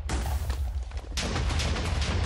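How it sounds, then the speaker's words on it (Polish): Video game explosions in Minecraft with the Explode mod, a dense run of heavy booming blasts that roll into one another, loud and close, with a fresh burst partway through and no talking. "Parę wybuchów."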